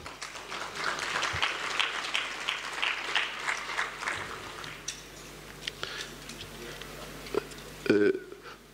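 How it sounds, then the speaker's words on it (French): Congress audience applauding the sponsor Grundfos at a closing ceremony, a broad wash of clapping that builds and then thins into scattered claps over several seconds. "Je voudrais qu'on les applaudisse."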